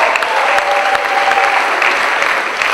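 A church congregation applauding loudly, dense sustained clapping from many hands that fills the space evenly throughout, with no distinct voices.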